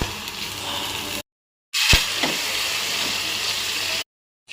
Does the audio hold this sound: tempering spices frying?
yes